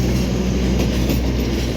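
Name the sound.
passenger train passing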